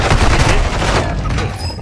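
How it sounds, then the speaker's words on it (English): Mortar strike explosions in an online shooter game hit in a dense, loud barrage of overlapping booms and blasts, fading slightly toward the end. "Copy that, mortar strike"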